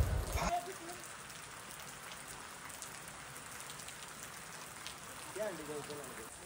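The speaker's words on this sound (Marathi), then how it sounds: "कालपासून खूप पाऊस लागलेला आहे आणि तुम्ही बघू शकता आत्ताही खूप पाऊस होतोय" Heavy rain pours steadily outdoors in Patnoli during Dahi Handi festival preparations, a dense even hiss throughout, with brief voices near the start and end.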